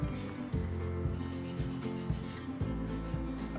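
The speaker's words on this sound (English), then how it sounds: "you just want to massage it a little bit so you're just rubbing off that dirt" Mushrooms being rubbed under running water to loosen dirt, a steady rush of tap water with repeated soft rubbing pulses, close and even.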